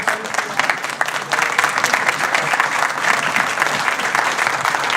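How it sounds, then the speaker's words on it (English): A county Board of Supervisors meeting audience claps for a singer, steady dense applause held at full strength throughout. "We give him a big round of applause."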